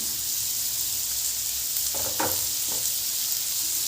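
Onion and green chili sizzling in hot oil for a prawn curry, a steady close frying hiss with a few brief stirring scrapes partway through.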